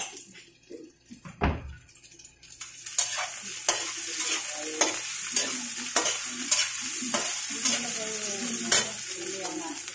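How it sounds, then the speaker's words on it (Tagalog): A cup of water poured into a hot frying pan of cooking food, then stirred, giving a steady sizzle with repeated scraping strokes of the utensil, close and alone. "Ayan, lalagyan po natin ng isang tasang tubig."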